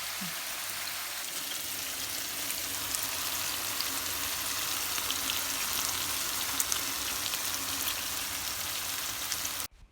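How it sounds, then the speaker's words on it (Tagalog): Steady loud sizzling and crackling of meat frying over high heat in a pan, continuous hiss with no talking. "Prito ko siya guys ng high heat para makaramelize yung sugar kanina."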